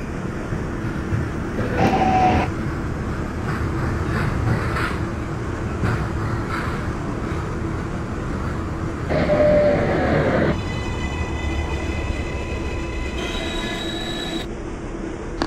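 R142 subway train on the 6 local in the OpenBVE simulator, a continuous loud rumble of wheels with two sharp squeals, then rising electric motor whines and tones as the train runs along the line.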